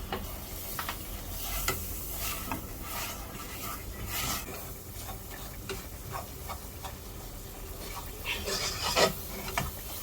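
Steady scraping and stirring in a pan with a soft sizzle as flour toasts in butter over lowered heat, close by, with no talking.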